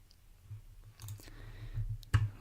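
Computer mouse clicks during a Rainmeter installation, a few soft close clicks over a low background hum, the last click sharper and louder.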